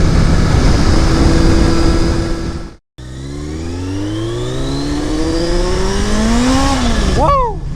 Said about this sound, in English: that was literally the back tire spitting out once it hit in a boost